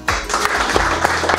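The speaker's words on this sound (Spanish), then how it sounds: "Niños, si les gustó, aplaudan." Children clapping at a Spanish-language financial talk at El Triunfo Corporation, a steady patter of many small hands filling the room for a brief moment, close and fairly loud.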